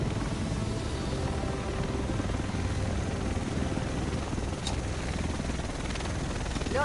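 Helicopter in a PS4 video game, a steady loud rotor and engine roar filling the whole stretch with no talk.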